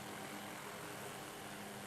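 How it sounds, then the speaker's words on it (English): A faint, steady helicopter drone from a flight simulator game, with a continuous whirring hum and no voices. "you can already hear it's a helicopter"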